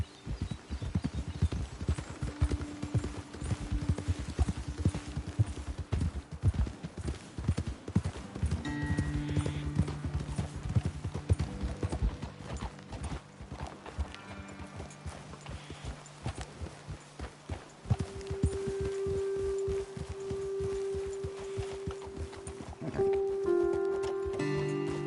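Horses ridden along a trail in Red Dead Redemption 2 give steady, close clip-clopping hooves throughout, with tonal game music or ambience beneath.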